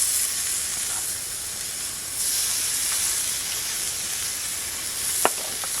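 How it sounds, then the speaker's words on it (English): A steak sears in a very hot pan at a campsite on K'gari (Fraser Island), giving a steady, loud sizzling hiss throughout with one brief sharp click near the end. "steak, room temperature, salt and pepper before you start, very, very hot pan"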